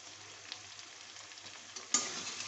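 Spices with salt and turmeric sautéing in a pan for a bata fish curry give a faint, steady low sizzle, then one louder stir or scrape near the end.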